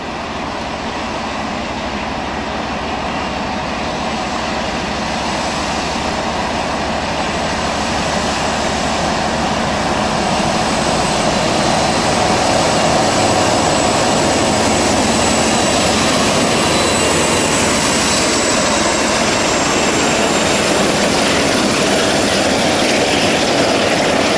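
A British diesel locomotive, a Class 47 in the Edinburgh suburbs hauling diverted trains, thrashes loudly in a continuous, heavy engine roar that builds slightly over the length, close and dominant with no talk.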